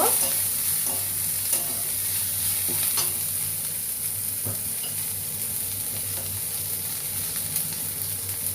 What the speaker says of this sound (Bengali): কুচনো পেঁয়াজ দিয়ে সুন্দর করে নাড়তে থাকবো। পেঁয়াজটা লাল লাল করব।